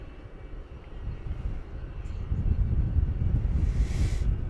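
A jet airliner rumbles at night at DFW Airport in Texas, a steady broadband roar that slowly swells louder over several seconds, mixed with wind noise and no voices.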